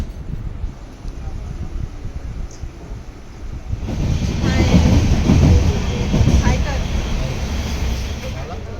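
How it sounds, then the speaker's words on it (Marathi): A fast passenger train from Pune to Ratnagiri rumbles along with a low roar that swells halfway through, its rattling run steady under wind noise and faint voices. "पुण्याहून ट्रेन सुटली आहे आणि फास्ट ट्रेन आहे"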